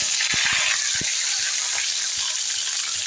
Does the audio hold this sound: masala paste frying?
yes